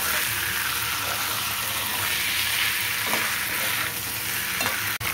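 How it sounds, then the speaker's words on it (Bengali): Potatoes fry with spices in a pan, giving a loud, continuous close sizzle. Occasional scraping stirs run through it, with no talking. "আমি আলুগুলো দিয়ে দিলাম। দিয়ে ভালো করে মশলার সাথে মিশিয়ে দেবো।"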